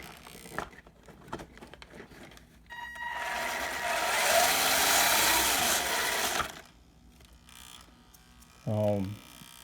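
A small electric motor whirs steadily for a few seconds as a 1/12-scale RC four-wheel-drive ATV runs, rising and then cutting off, surrounded by light handling clicks and a brief voice near the end.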